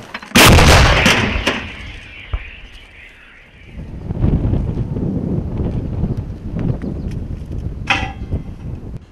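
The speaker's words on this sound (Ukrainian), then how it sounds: "Ціль уражена залпом гармат." A heavy naval gun salvo from a Ukrainian Navy ship booms loudly at sea at the start, followed by a long rumbling roar and wind noise, with another sharp report near the end.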